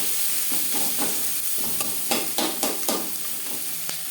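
Sliced onions frying in oil in a pan, a dense loud sizzle running throughout, with repeated scraping strokes of a spoon stirring them in an irregular rhythm, heard up close with no talking.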